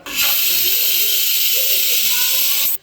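A pressure cooker with rice gruel and green gram lets off a loud, continuous hiss of steam with a faint whistle tone, lasting a few seconds and then cutting off abruptly.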